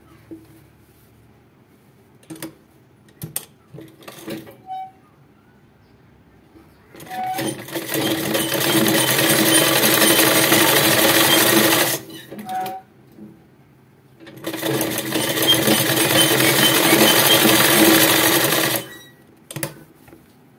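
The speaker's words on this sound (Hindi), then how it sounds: "चलिए हम इस तरीके से इसे सिलाई कर लेते हैं" An electric sewing machine stitching a Patiala salwar runs in two long, loud whirring bursts of several seconds each, separated by short clicks and handling noises of the fabric.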